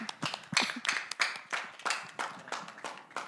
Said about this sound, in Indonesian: Tepuk tangan untuk Kak Wendy.